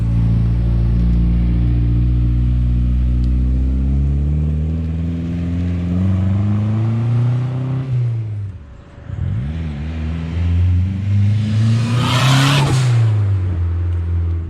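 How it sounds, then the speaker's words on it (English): Turbocharged Honda Civic EK hatchback engine revving hard and close, a loud rising rumble that climbs, drops off, then surges again with a sharp hissing turbo rush near the end. "Making fun turbo sounds."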